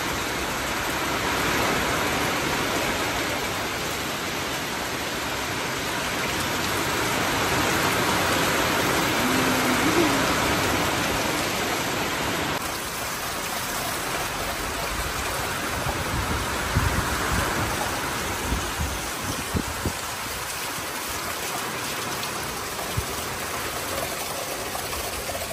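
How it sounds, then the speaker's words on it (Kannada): Heavy rain falling outdoors during a windy spell, a dense continuous hiss that stays loud and even throughout, with a slight change in texture partway and no speech. "ಜೋರು ಮಳೆ ಇದೆ."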